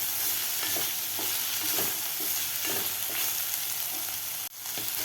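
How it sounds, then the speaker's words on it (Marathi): Tomato frying with spices in a pan for sago upma, a steady sizzle broken by repeated scraping strokes of a stirring spoon and one sharp knock near the end. "आता आपल्याला सगळे जिन्नस व्यवस्थित 1 मिनिटभर आणखीन फ्राय करून घ्यायचे आहेत टोमॅटो घातल्यानंतर"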